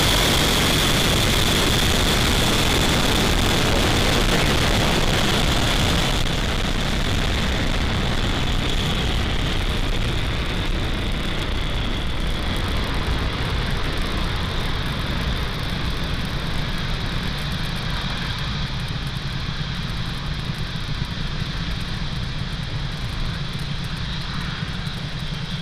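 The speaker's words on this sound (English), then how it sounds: "two, one, liftoff. Vehicle is pitching down range." SpaceX Falcon 9 rocket lifting off with Starlink satellites, a loud, continuous, broadband engine roar that stays steady and dense throughout without letup, heard from a distance with no speech.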